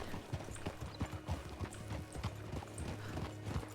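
Horse hooves clip-clopping in the RedM roleplay game, a steady run of hoof strikes close by with a faint neigh.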